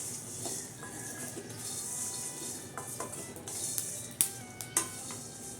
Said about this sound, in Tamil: கடைசியாக நம்ம வறுத்து வச்சுருக்கிற அரிசியவும் இது கூட சேர்ந்து கலந்து விட்டுக்கலாம்.